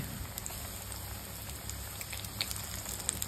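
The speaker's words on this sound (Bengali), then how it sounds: "সাদা তেল দিয়ে ভেজে নিচ্ছি।" Coated chicken popcorn fries in white oil, a steady close crackling sizzle like light rain that stays even for a few seconds, with no talk.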